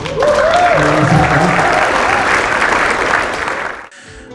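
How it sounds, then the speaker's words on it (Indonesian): A crowd applauding at a vocational high school graduation in Pontianak, loud dense clapping that holds steady for several seconds before tapering off abruptly near the end. "Jadi ini mungkin aplaus untuk teman-teman"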